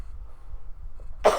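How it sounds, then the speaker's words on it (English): A single cough at the end of a podcast recording, sudden and muffled as if turned away from the microphone, after a second of near-quiet room noise. "I'm attempting to cough as far off as possible"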